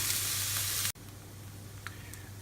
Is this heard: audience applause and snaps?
no